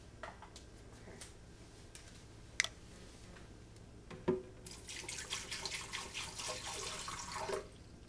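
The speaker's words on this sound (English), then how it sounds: "I'm going to add a little water to my Vitamix blender." Water running from a tap into a Vitamix blender jar for a green smoothie, a few faint kitchen clicks and knocks followed by a bright splashing stream for the last few seconds.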